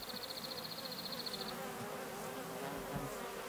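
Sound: bumblebees and bees buzzing around garden flowers

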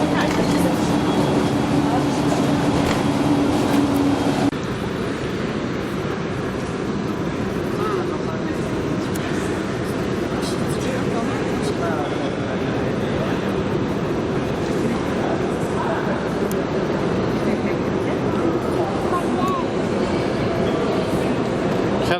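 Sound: riding the Budapest metro train

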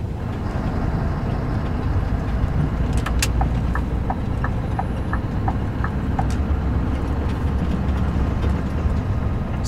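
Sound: Scania R560 V8 truck engine powering up

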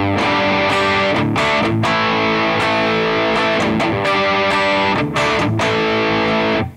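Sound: distorted electric guitar rhythm through HeadRush pedalboard, Soldano IR

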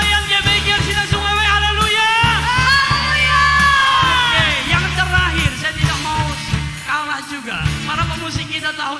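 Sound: church congregation applauding and cheering

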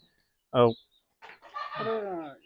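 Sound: chickens clucking

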